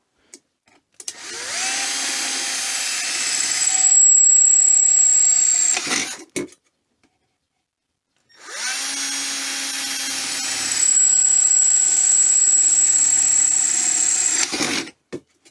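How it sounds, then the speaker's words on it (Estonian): Power drill boring holes into sheet metal for a homemade pellet burner prototype built onto a cheap stove, in two long loud bursts of about five seconds each with a steady whine and rising pitch, separated by a short silence. "ma peangi need augud ära puurima siia kuskile selle osa peale ära puurima"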